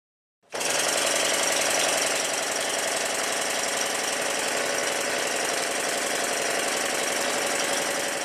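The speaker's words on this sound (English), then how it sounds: "The more I ran the engine, the smoother it got" A small model triple-expansion steam engine starts suddenly and runs steadily with a rapid, even mechanical chuffing and clatter, close and continuous without pause.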